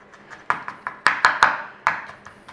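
Garlic being mashed with a garlic masher for a budget chilli, a run of sharp irregular knocks and crunches close by, the loudest bunched near the middle, no talk.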